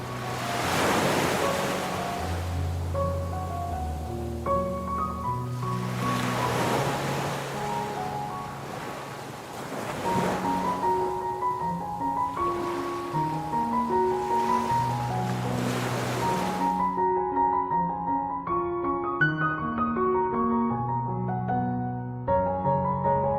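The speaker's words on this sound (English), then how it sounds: "When the sun sets and darkness looms, you can hear the roar of the sea." Sea waves roll in at a Saint Martin Island beach. Broad surging swells rise every few seconds over steady music, then the surf drops away near the end.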